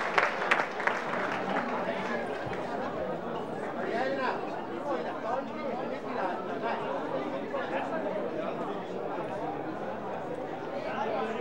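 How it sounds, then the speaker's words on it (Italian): Crowd at a regional youth athletics championship track meet in Veneto applauding an athlete after a personal best, with sustained clapping mixed with steady crowd chatter and voices throughout. "Meritatissimo applauso."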